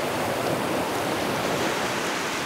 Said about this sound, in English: I love the sound of the waves crashing on the beach too.